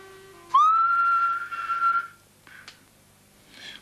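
One person gives a single rising, then sustained clear whistle lasting about a second and a half, followed by brief faint tonal chirps in an otherwise quiet room.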